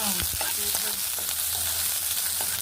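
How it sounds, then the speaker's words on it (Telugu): Onion sizzling in hot oil with mustard seeds, cumin, cloves, cardamom and cinnamon, a steady close crackle with occasional stirring scrapes and no voices. "ఆవాలు, జీలకర్ర, లవంగం, యాలగ, పట్ట, ఇప్పుడు ఉల్లిగడ్డ వేసారు."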